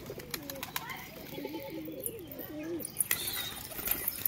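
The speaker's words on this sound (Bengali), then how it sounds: "দেখুন পায়রাগুলো।" Pigeons offered for sale coo softly in a steady warbling run, with sharp wing flaps and light rustling scattered over the top, close by and alone without talk.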